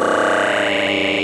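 Arturia Microfreak synthesizer producing granular digital oscillations, a bright, buzzy, sustained tone with fast grain-like flutter throughout a brief burst.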